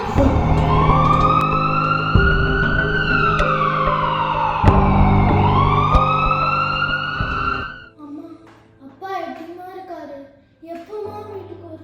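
A loud emergency siren wails in rising and falling sweeps for about eight seconds, with traffic rumble underneath, then cuts off, leaving quieter voices talking.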